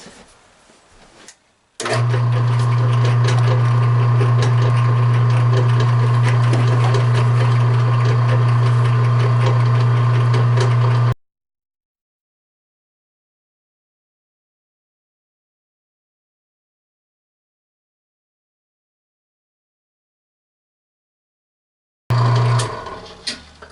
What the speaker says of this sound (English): Set up on the horizontal mill. We're just gonna cut a slot in this